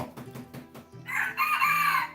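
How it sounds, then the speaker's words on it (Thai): A rooster crows loudly and close by in one long, drawn-out call after a few short clucks. "มีเสียงไก่ด้วย"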